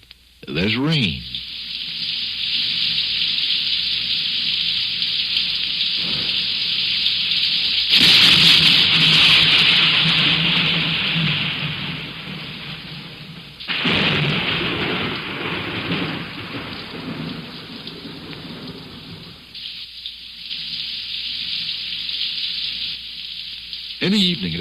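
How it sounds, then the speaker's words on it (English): Rain pouring steadily with rolling thunder in a 1950s New York radio recording, a loud continuous hiss broken by deep rumbles and a sharp crack, fading and swelling over time. "And then there's rain."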